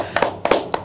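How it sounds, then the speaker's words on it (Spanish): A few people in a casual interview setting give themselves a round of claps: sharp, close hand claps in three short bunches, with quiet pauses between them. "Autoaplauso."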